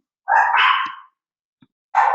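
A dog barks loudly and close to the microphone during an online video conference: one long, drawn-out bark, a brief pause, then the start of another bark.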